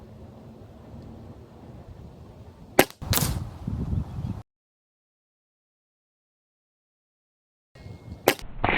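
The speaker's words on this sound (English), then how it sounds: "So now I'm going to go ahead and shoot a group." A Mrod Air Max PCP air pistol fires as a group is shot, two sharp close cracks about five seconds apart, each followed by a short burst of handling noise, with a silent gap between them.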